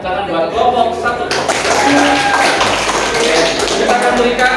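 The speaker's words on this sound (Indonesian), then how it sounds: "maka tepuk tangan buat kelompok satu" Students in a classroom clap for group one, a loud, close patter of many hands tapping steadily throughout, with voices faintly mixed in.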